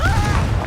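A Confringo blasting spell explodes during a duel in the video game Hogwarts Legacy, a short, loud booming burst with a swooping tonal whoosh over low rumble, close and dominant.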